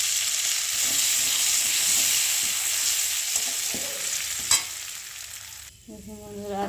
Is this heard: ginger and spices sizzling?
yes